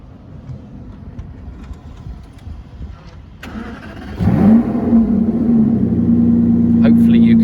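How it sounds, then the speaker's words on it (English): An Aston Martin Rapide AMR cranks and fires up, its engine catching with a loud burst and then settling into a steady, throaty idle through the quad exhausts, heard close up after a few seconds of quieter background. "see if we can just capture the exhaust note through those quad exhausts"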